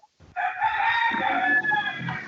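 A rooster crows once, a loud, close, drawn-out call lasting about two seconds with no talk over it.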